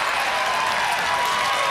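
A crowd applauds at a World Poker Tour final table, a dense, even wash of clapping that holds steady for the whole short stretch.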